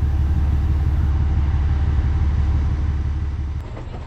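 Kangra Valley narrow-gauge train pulling away from a station, a steady loud low rumble of the engine and wheels that holds constant, then eases slightly near the end; no voices.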